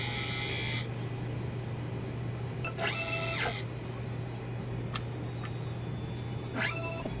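A DTF printer runs a head clean, giving a steady electrical hum under bursts of whirring and buzzing as the mechanism moves, with brief clicks between them.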